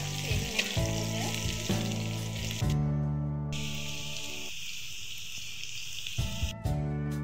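Ginger frying in hot oil gives a steady, bright sizzle for several seconds, with a clear tonal background running underneath and a brief break midway.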